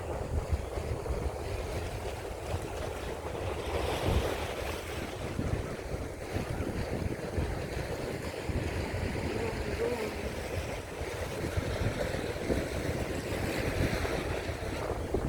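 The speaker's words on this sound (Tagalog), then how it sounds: "Tapos naririnig natin ang tunog ng alon." Ocean waves roll and wash continuously on the shore at Peng Chau, Hong Kong, mixed with gusty wind buffeting the microphone, loud and close throughout.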